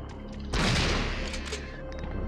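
A single gunshot fires in the video game Resident Evil 3 Nemesis, a sudden loud burst over a steady hum of game ambience that fades away.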